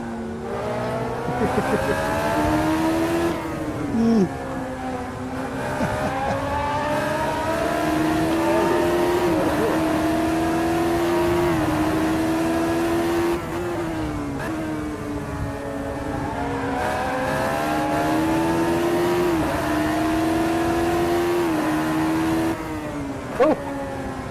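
A race car engine roaring close up, revving through rising gears and dropping on shifts, with occasional tire squeal over the steady mechanical drone.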